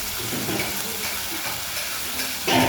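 A paste of onion, ginger, garlic and green chilli fries and splutters in a pot in a cloud kitchen preparing veg biryani, giving a steady close hissing sizzle that swells into a louder crackling burst at the end.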